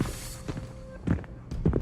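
Footsteps in a dramatized horror story reenactment: three or four heavy, evenly spaced steps approaching indoors, fairly close, with a faint tonal hum beneath.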